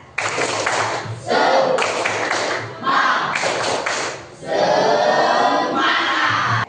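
A group in a religious-education classroom claps in rhythmic bursts for a spirit chant, several sequences of quick claps separated by short pauses, with voices chanting along and loud, close room sound.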